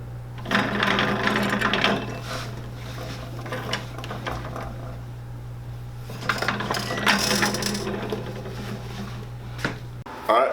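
Shoe-repair heel nailing machine driving nails up through a heel block on a John Lobb shoe, producing a low motor hum with bursts of sharp metallic clatter and tapping, fairly close.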